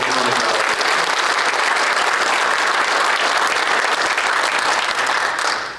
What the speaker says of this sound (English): Put your hands together for Akron Children.